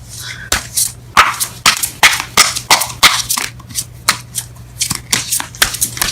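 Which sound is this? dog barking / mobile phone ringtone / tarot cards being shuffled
tarot cards being shuffled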